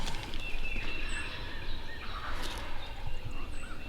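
Several wild turkey toms, five in all, gobble in overlapping bursts, some nearer and some farther off, against a steady outdoor background in Kentucky with no talking.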